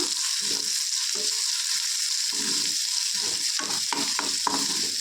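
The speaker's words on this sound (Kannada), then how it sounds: "ಶುಂಠಿ ಬೆಳ್ಳುಳ್ಳಿದು ಹಸಿ ವಾಸನೆ ಹೋಗೋವರೆಗೂ ಫ್ರೈ ಮಾಡ್ಕೊಂಡಿರೋಣ" Crushed ginger and garlic fry in hot oil for a hotel-style matar kurma, giving a continuous bright sizzle with a series of stirring scrapes toward the end.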